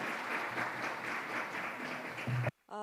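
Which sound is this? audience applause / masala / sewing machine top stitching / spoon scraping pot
audience applause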